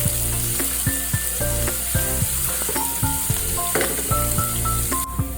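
Masala frying in a pan for a Kochi-style fish curry, a steady close sizzle broken by repeated scraping and stirring clinks, continuous and without talk.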